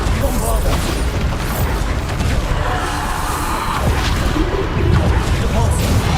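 Bombarda explosive spells go off in Hogwarts Legacy with dense, loud booms and whooshing blasts, layered with battle clatter and shouted incantations throughout.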